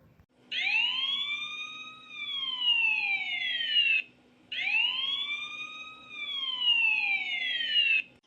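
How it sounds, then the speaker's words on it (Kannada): Ambulance siren wailing in two long rising-and-falling sweeps, loud and close, each cycle lasting about four seconds with a short break between them, no voices present. "ಅಯ್ಯೋ ಆಂಬುಲೆನ್ಸ್ ಬಂತು ಅನ್ಸುತ್ತೆ"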